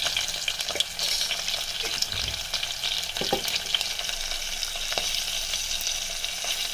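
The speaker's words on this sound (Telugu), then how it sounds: "పచ్చిమిర్చి వేయాలి, కరివేపాకు, 1 స్పూన్ పసుపు వేయాలి," Green chilies, curry leaves and turmeric fry in hot oil with a constant crackling sizzle up close, broken by a few spoon scrapes and taps, and nobody speaking.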